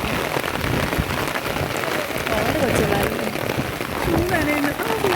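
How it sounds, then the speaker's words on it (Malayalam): Steady heavy rain pouring down, a dense continuous hiss with spattering drops, and a voice speaking faintly underneath. "നല്ല മഴയായിരുന്നു"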